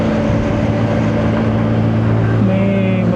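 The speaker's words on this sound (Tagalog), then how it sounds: "Traffic dito ah." Road traffic in the Philippines, heard as a steady loud engine drone and rumble with a shifting tone, continuous from start to finish.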